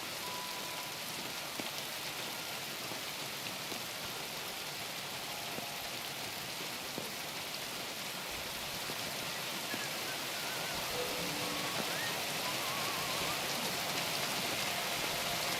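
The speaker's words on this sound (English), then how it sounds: "It's raining, so that should help." Continuous rain falls in Kingdom Come: Deliverance 2, a close, even patter of drops on surfaces that swells slightly toward the end. Faint, scattered ambient sounds lie underneath, and no one speaks.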